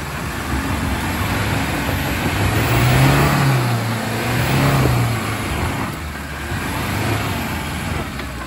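Supercharged V8 Range Rover L322 working a rough off-road lane, its engine droning steadily and swelling into two rising revs midway before settling back, close and loud with no voices over it.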